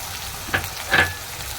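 Sliced onions hit hot oil in a pan for chow mein, giving a short, close sizzle with two quick stirring scrapes.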